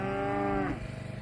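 A cow on a homestead farm lets out a single loud, close moo that sustains for most of a second, then falls away into low rumbling, with no talking.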